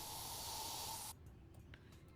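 Touch-up spray paint can in the Yard Sale Simulator video game, giving a loud, steady pressurized hiss for about a second that cuts off abruptly, followed by quiet background.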